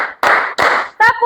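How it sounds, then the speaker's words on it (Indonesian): A group of classroom children claps in a counted rhythm, with three close bursts of clapping and a voice starting right at the end. "Tepuk 1, tepuk 2, tepuk 3, tepuk 4"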